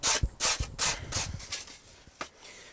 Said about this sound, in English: Now I don't need to see a whole video of me just sanding pieces.